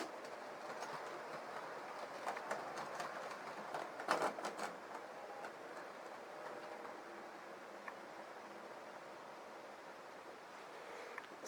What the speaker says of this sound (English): Here comes the Hornby Pendolino